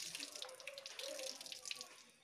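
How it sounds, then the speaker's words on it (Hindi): Water running from a tap while hands are washed, a soft continuous splashing stream with faint sink gurgles, quiet and close. "फिर कोई पानी डालेगा, नल चालू कर देगा तो तुम हाथ धुलोगे"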